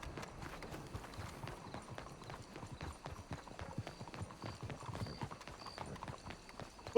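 Rapid, irregular hoofbeats of a galloping horse in the video game Red Dead Redemption 2 clatter continuously at a moderate distance, with faint background ambience.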